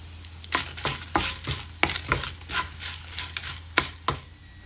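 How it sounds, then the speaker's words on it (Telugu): Four or five dried red chilies frying in oil for tomato mint chutney, a constant sizzle broken by repeated scraping stirs of a spoon against the pan, close and clear with no voices. "ఇలా వేగుతున్నప్పుడు మీ స్పైస్ని బట్టి ఎండుమిరపకాయలు వేసుకోండి. నేను ఇట్లా 4-5 ఎండుమిరపకాయలు వేస్తున్నాను."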